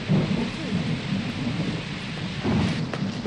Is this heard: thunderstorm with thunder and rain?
yes